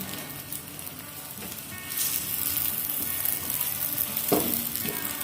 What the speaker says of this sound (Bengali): এদিকটা আর একটু লালচে করে ভেজে নিতে পারি